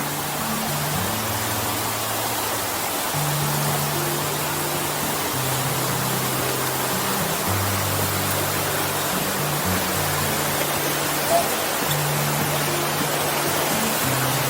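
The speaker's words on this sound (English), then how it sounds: "you can see the other side of the river flowing over here" A river flows past the crossing toward Emiliano Zapata in Puerto Vallarta, a steady broadband rush of water heard continuously, with a low droning hum running beneath it.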